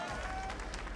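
Crowd applause at an esports Halo championship watch party, a soft continuous patter of clapping that sits at a low, even level throughout.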